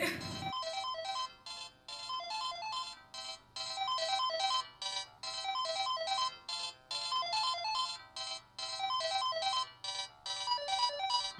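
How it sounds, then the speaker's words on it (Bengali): A mobile phone ringtone rings during a Bengali TV serial scene, a bright repeating electronic melody looping in steady phrases for several cycles, fairly loud and with no talk over it. "আরে বাবু ফোনটা ধর না"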